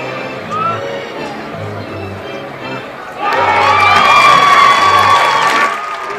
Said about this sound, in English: it's the Pearland fans cheering